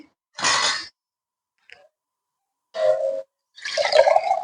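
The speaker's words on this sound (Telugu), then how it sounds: "ఈ టైంలో మనం వాటర్ పోసుకుందామండి" Water is poured into a pot of bagara rice in a few short splashing bursts separated by silence, close and fairly loud.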